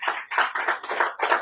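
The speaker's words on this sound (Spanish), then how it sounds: "¿Le pueden dar un aplauso al Señor" Congregation in a church clapping together, several bursts of applause in quick succession with brief dips between, fairly close and loud with no talking over it.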